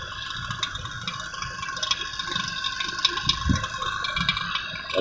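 Vacuum pump evacuating a 16 HP VRF air conditioner system, a steady mechanical drone with a constant high whine and faint hissing, running loud and continuous.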